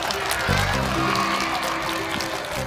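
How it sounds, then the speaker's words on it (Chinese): An audience at a televised science show applauds a teacher, a steady wash of clapping from many hands that carries evenly throughout at moderate loudness, with a host's voice faintly over it. "我们掌声再次送给玉老师"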